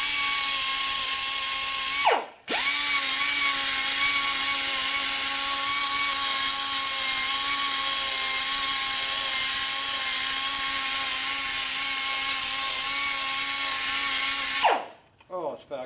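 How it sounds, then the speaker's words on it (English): A grinder whines at a steady pitch while working on a blown 1950 Harley-Davidson panhead 74ci motor. It runs close and loud, cuts out briefly near the start, then spins back up for a long continuous pass before stopping. "Where's your grinder? What grit are we gonna use?"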